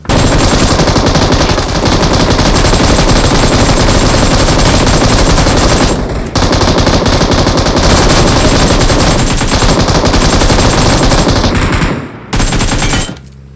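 Sustained, loud automatic gunfire from the PUBG battle royale game, dense bursts running almost continuously with a brief gap near the middle and a short break before a final burst.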